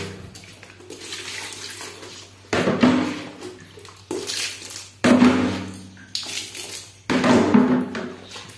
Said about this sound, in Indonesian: Oke, kita lihat ya, siram dulu.